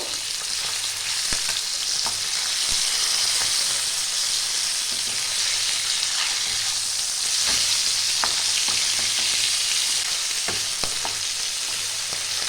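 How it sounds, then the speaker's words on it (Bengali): Pieces of bhola fish fry in hot oil, giving a continuous bright crackling sizzle with scattered pops and occasional light utensil taps, with no voices. "এই পাশটাও আমি ভেজে নেব"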